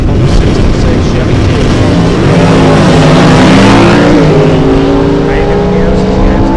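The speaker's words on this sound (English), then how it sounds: "The 3-pedal car on the right, he'll dump the clutch on the 66 Chevy" A 1966 Chevy factory stock drag race car with a manual three-pedal gearbox launches hard off the line with a clutch dump, its engine roaring loud and continuous as the revs climb and shift.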